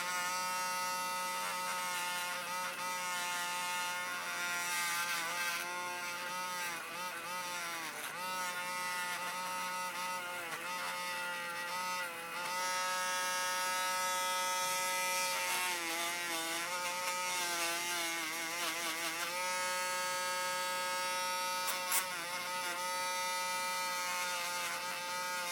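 A rotary tool whirs continuously as it cleans the carburetor of a Honda ATC 200s, holding a steady high-pitched motor whine with pitch dips where the bit bears down on the metal, loud and close throughout.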